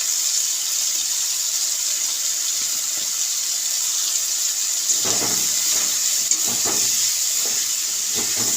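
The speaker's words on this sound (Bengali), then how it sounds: "চিকেনটা এবার আমি এভাবে নাড়াচাড়া দিয়ে ভালো করে ভেজে নেব।" Chicken pieces sizzle in a frying pan with curry masala, a steady bright hiss throughout, joined midway by scraping stirring strokes against the pan, close and with no one speaking.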